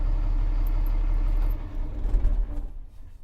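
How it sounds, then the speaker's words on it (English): A truck's engine idles with a low rumble and then is switched off, the steady drone cutting out midway and giving way to a brief uneven settling noise before fading to quiet. "So we'll stop the engine,"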